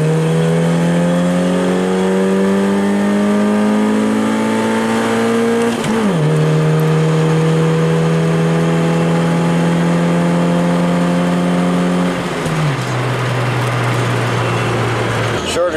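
A stock 4AC engine car launches hard in a 0-60 run, its engine note climbing loud and close through three gears with two distinct shift breaks, engine sound filling the whole span.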